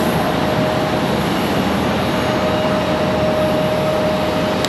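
A Contour Airlines ERJ jet readies for departure at Charlotte Douglas airport, giving a steady engine roar with a thin constant whine running through it, fairly loud and unbroken.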